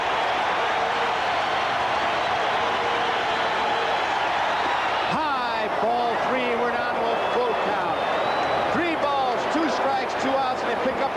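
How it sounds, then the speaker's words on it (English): A steady, dense roar from a large baseball crowd fills the stadium at a 1978 World Series game between New York and Los Angeles, with a commentator talking over it partway through. "Listen to the crowd."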